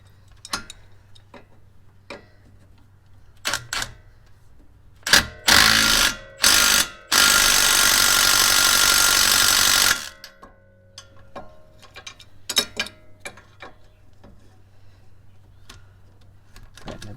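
A tool tightens bolts on the front suspension of a Subaru WRX race car, with scattered ratcheting clicks followed by a loud, steady mechanical buzz of a few seconds that cuts off, then more sparse clicks.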